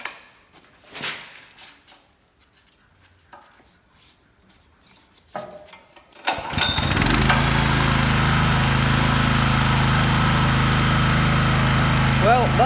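After scattered quiet handling clicks and knocks, a 2.7kVA generator's small engine starts abruptly and settles into a loud, steady close-up drone that continues to the end, with a voice briefly audible over it.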